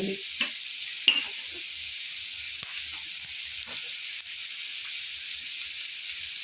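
Onions and drumstick pieces frying in a pan for a curry, giving a steady soft sizzle and hiss throughout with a few brief stirring scrapes near the start.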